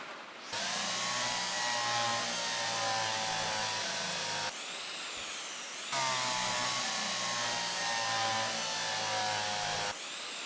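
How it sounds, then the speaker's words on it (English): A power drill drives a screw in the Derail Valley game, sounding as a loud, sustained high whine that runs for several seconds, cuts out briefly, then starts again. "It's not only a drill, that thing, it's actually a drill, and it installs the screw as well"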